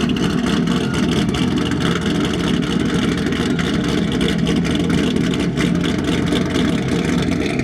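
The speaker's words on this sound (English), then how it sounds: "Listen to that blower." A supercharged 2010-2015 Chevrolet Camaro SS engine runs on a dyno, a loud, steady, close-up drone with the blower's whine layered over a constant rumble.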